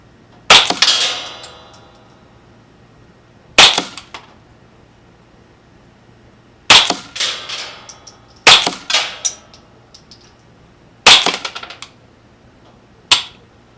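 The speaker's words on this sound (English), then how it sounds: "you could hear it hitting the wood backstop with a pretty good thump" Subsonic .22 rounds fired through a CCI suppressor, striking a wood backstop: six sharp, separate cracks with short thumping tails, spaced a few seconds apart in an otherwise quiet outdoor setting.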